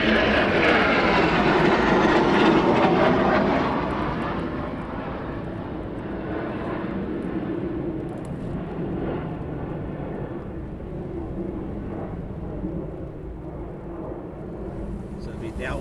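A Eurofighter Typhoon jet on approach at RAF Coningsby roars loudly overhead, the heavy engine noise peaking early then easing into a sustained, gradually fading rumble, with a voice talking over it.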